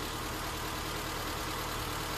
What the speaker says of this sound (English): as you can tell right now, this car is starting to quiet down